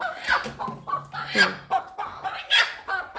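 A chicken clucks nearby in short, irregular bursts, several sharp calls with brief pauses between them.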